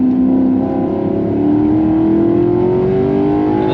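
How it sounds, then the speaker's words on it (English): A Maserati GranTurismo MC Stradale's naturally aspirated engine revs loudly from inside the car, a rising, continuous growl that climbs steadily in pitch throughout, with no talk. "the throttle response for an actually aspirated engine is phenomenal"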